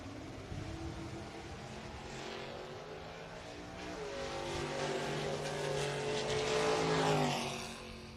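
A Beretta drag race car powered by a junkyard 5.3 LS V8 roars at a bracket race, engine tone climbing as it rises to a loud peak near the end then fades, heard from trackside with no talking.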